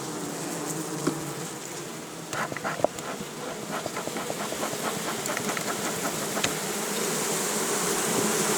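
Dense swarm of honey bees buzzing steadily around beehives at an apiary during honey extraction season, a continuous close hum with scattered louder individual bees flying past.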